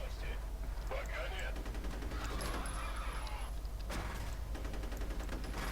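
Rapid automatic gunfire from the player's weapon in the shooter F.E.A.R., sustained bursts over a steady game soundscape, with a faint voice underneath.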